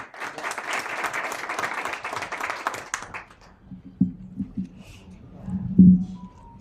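An audience at a seminar applauds to welcome the president of the Kuwait Pakistan Friendship Association, a steady wash of clapping for about three seconds that fades out, leaving a quiet room with low murmurs and a few thumps.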